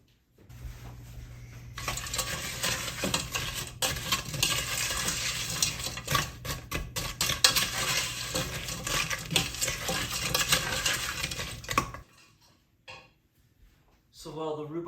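Rhubarb with water, sugar and vanilla cooks in a pot on the stove, giving a steady loud bubbling sizzle for about ten seconds that cuts off, followed by faint clinks and a short stretch of voice.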